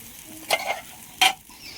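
A dosa cooks on a hot pan, giving two short bursts of sizzling and scraping about a second apart over a quiet kitchen background, with no talking.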